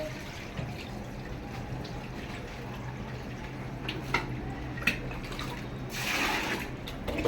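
Store-bought rice is washed in water by hand, with soft, quiet sloshing and a brief louder splash near the end, under faint background sound.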